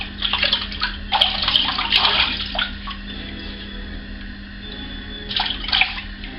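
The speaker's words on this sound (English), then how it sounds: "I'm not fully rinsing it, but kind of like a half rinse" Water running and splashing as shaving soap is half-rinsed off a face at a sink, a steady close wash with bursts of splashing and a lull in the middle.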